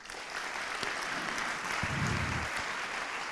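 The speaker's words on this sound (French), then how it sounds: "on peut l'applaudir" An awards ceremony audience applauds steadily, a dense wash of clapping from many hands at moderate distance, with a few louder nearby claps.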